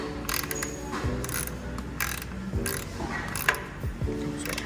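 A hand ratchet tightens a 12 mm nut on a TPMS sensor, giving repeated bursts of close, crisp clicking in steady strokes, with no talk.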